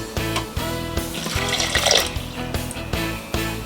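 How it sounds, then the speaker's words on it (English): Water pours steadily into a cooking pot to cover potatoes for mashing, a continuous splashing fill running the full length under rhythmic background music. "I have magic water that I'm going to add to the pot"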